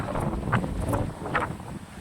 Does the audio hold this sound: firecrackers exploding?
no